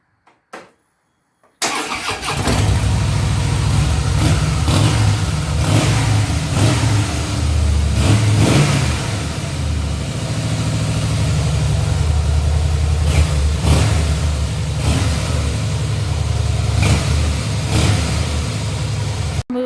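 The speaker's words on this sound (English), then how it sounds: "Now we're going to warm up the engine." A 2013 Harley-Davidson Softail FLS motorcycle engine starts after a brief click, then idles and revs in a steady warm-up, loud and close throughout.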